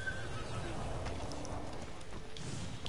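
Horse whinnying in the video game Ghost of Tsushima, a clear neigh joined by clip-clop hoofbeats over a steady wind-like ambient bed.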